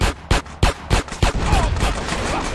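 Drive-by gunfire in the video game GTA San Andreas: a series of sharp, loud shots spaced roughly a quarter second apart, followed by dense, continuous in-game noise.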